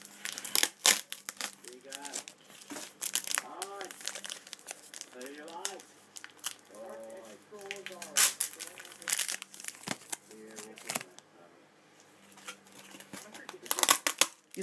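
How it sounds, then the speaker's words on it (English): A pack of baseball cards torn open, crinkly wrapper rips and rustles close up in repeated bursts, with a voice speaking between them. "Here, let me tear off the cards real quick."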